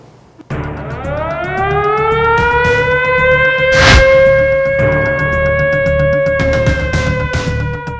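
An air raid siren in Myeongdong, Seoul, in 1983 winds up from silence into a loud, steady wail that holds for several seconds, with a brief burst of noise partway through.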